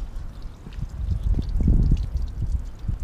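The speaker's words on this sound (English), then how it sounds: "Get all that coolant. That's coolant mixed with water." Coolant mixed with water drips and trickles from the pipes of a BMW E34 530i, a close, uneven patter of splashes that swells in the middle and fades again.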